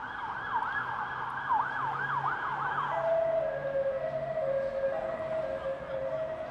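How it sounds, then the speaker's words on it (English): A distant police siren in Brixton, London wails in rapid rising-and-falling sweeps, then settles into a long steady tone over a constant murmur of traffic. "The sound of police sirens in Brixton is relentless"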